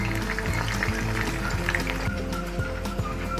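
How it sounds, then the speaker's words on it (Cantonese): Chicken steaks frying in a pan until golden on both sides give off a steady sizzle, with a low tonal hum running beneath throughout. "等一陣煎到兩邊金黃"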